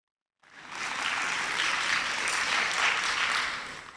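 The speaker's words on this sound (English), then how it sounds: "Clap for me." Conference audience applauding at a data science and artificial intelligence event, beginning abruptly after a short silence and holding as a dense, even wash of clapping that swells slightly and then eases toward the end.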